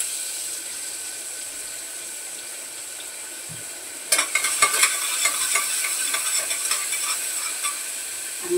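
Onion and bay leaf dropped into hot oil in a pan, a quiet hiss at first, then a sudden loud sizzle with scraping, stirring clatter continuing steadily close by, no voices.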